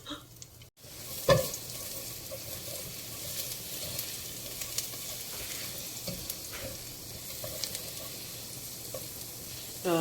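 Garlic frying in a pan, a steady soft sizzle with occasional clicks and stirring scrapes, alone without talk.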